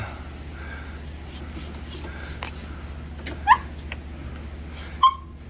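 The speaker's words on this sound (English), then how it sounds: "Listen to Tucker bark in the background because it's not getting attention" Tucker the dog gives a few short yips and whimpering barks in the background, scattered sparse calls over a steady low hum, with faint voices nearby.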